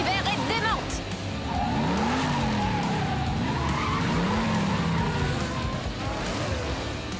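Twin Mill Hot Wheels race car skidding on two wheels in a cartoon race, with loud sustained tire squeal and engine noise. A voice speaks over it and music plays underneath.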